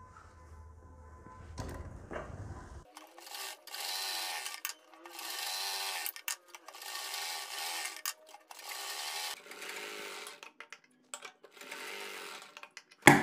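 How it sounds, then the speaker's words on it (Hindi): A sewing machine stitches fabric for a kurti front design, using white pattern fabric and Anchor thread. The machine whirs in several bursts of a few seconds each, with short pauses between runs and some handling clicks before the first run. "अब हम सारी सिलाइयाँ 1/4 इंच के मार्जिन से यहाँ तक कंप्लीट करेंगे"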